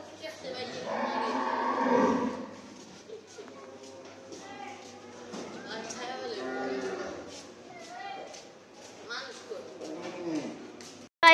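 Cow in a narrow village lane, lowing a few times amid shouting and talk from several men nearby, with a sharp loud burst at the very end.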